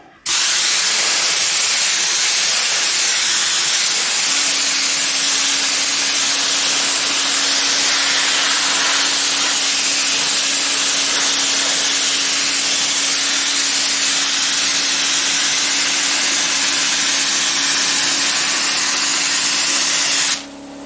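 Sandblasting with coarse grit: a loud, continuous roaring hiss of abrasive blasting against a surface, steady for about twenty seconds with a faint constant tone from the compressor running underneath.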